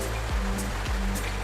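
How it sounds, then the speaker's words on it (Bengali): Heavy rain on a June day gives a dense, rushing wash of noise close by. A few dull low thumps break into it now and then. "এইবারও বৃষ্টি হচ্ছে।"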